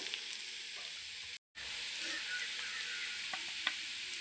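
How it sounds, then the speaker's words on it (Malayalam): Onions and green chillies sizzle and fry steadily in a pan for a dried-prawn roast, with occasional stirring clinks, close and continuous apart from a brief gap. "ഉള്ളിയും പച്ചമുളകൊക്കെ നന്നായി വഴണ്ട് വന്നിട്ടുണ്ട്"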